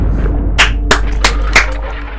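Sharp, close shotgun blasts sound in a gambling video game, with several loud cracks spaced unevenly over about two seconds against a low background hum.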